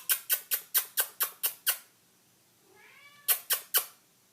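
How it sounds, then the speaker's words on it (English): A kitty moves about in a craft studio, with a quick run of about seven sharp, evenly spaced taps or thumps, then a brief rising meow, then three more taps; close and fairly loud with no talking. "Kitty's up to something"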